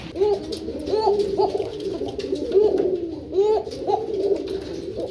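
A Kuka pigeon coos close by in a repeated rhythmic pattern of soft, rolling calls, with no talking.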